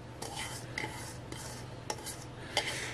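Chopped onions and Florina red peppers sauté in a pan, a soft sizzle broken by several sharp clinks and scrapes of utensil against the pan, close and moderately quiet.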